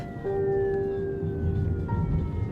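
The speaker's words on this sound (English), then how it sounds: "That evening, we heard sirens." Wailing sirens sweep up and down over a steady low rumble of traffic, loud and continuous, with no voices, at the Spanish border fence with Morocco.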